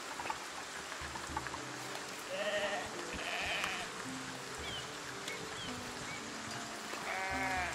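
Sheep bleat several times in the medieval city-building game Foundation, wavering cries heard near and far over a steady ambient game backdrop, with no talking.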